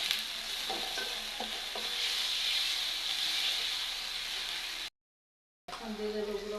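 Onion frying with ginger, garlic and cumin in a pan, a close, steady sizzle and hiss with a few stirring scrapes. The sound cuts out briefly, then the sizzle resumes.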